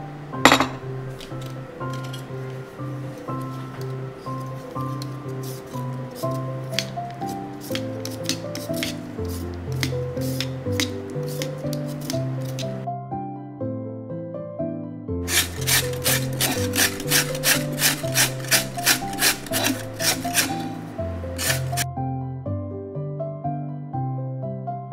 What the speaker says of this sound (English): I'm gonna go ahead and peel off the